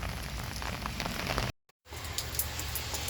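Steady rain falls in the Arizona desert, a dense continuous hiss of drops hitting surfaces that cuts out briefly near the middle and then resumes.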